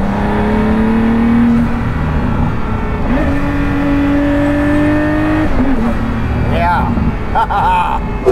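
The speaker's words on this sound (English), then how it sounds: "the experience of driving this car is really unlike any of the other ones." A Pagani Huayra Roadster BC supercar's engine revs and rises in pitch through several gear changes, loud and close, with a voice talking over it.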